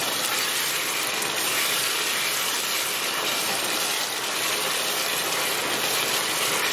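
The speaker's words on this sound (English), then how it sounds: "it only spits a little bit like this when you're putting garlic and ginger paste in" Ginger garlic paste spits and sizzles in a hot pan for chicken wing biriyani, a loud, dense, unbroken hiss with crackling throughout.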